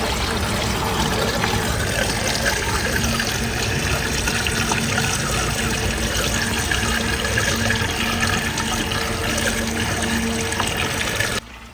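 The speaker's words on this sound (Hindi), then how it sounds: "तो इसके लिए हमने दूसरा डीजल मंगाया है, वो डालते हैं" Diesel poured from a 10-litre can into the tank of a John Deere 5050 tractor, a steady continuous gurgling pour lasting about eleven seconds before stopping abruptly.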